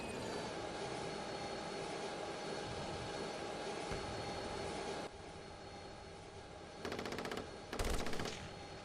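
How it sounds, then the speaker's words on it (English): Machine gun fire in a military video game, sustained rapid bursts over a constant engine-like drone, with short louder bursts near the end. "Machine gun fire."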